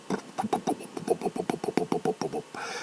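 A voice imitates a Harley-Davidson motorcycle engine being kickstarted, a rapid string of about fifteen sputtering, rhythmic putts that rise and then trail into a breathy rush, close and clear.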